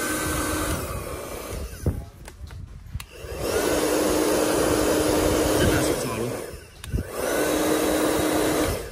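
A secondhand Japanese hair dryer runs with a loud steady blowing whine in two bursts, switched off briefly between them amid clicks and handling noise, with a person talking.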